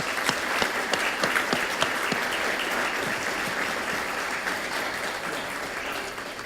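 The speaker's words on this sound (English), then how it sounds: "round of applause for our speakers" Steady applause from an audience at an environmental education awards ceremony, many hands clapping in a dense, even wash with a few sharper claps near the start, moderately loud throughout.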